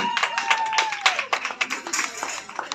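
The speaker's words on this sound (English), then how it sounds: "Please clap for them, they deserve that trophy." Audience at a corporate woodball awarding ceremony claps for the winning club, with scattered, uneven handclaps and crowd noise under a voice and a faint tone.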